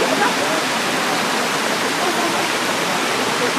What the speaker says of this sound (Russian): Водопад 25 источников.